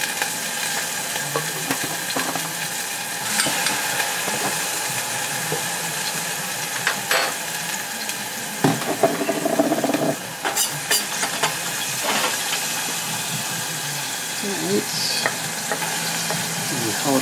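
Garlic sizzles in hot olive oil in a pan, a steady close frying hiss broken by louder bursts of stirring and clatter, with no talk.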